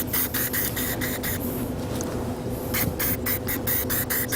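Short bursts of spray paint hiss from an aerosol can onto a glass vase in a quick rhythm, a pause, then another run of rapid close-up sprays.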